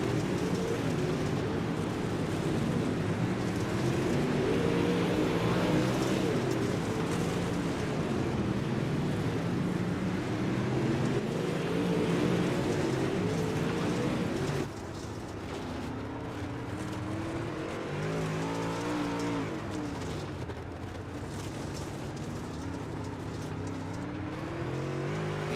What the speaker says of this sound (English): Drag race down the front straightaway.